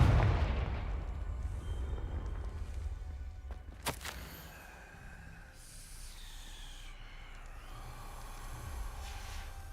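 A Confringo fire spell blasts in Hogwarts Legacy, one sharp explosive crack rising out of a low rumbling ambience and then trailing into a fading magical whoosh and hum.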